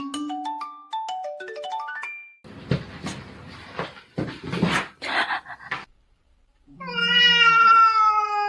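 A cat meows repeatedly in short rising and falling calls, broken by a few bursts of rustling and handling noise, then a longer drawn-out meow near the end.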